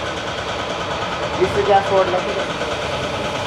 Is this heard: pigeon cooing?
no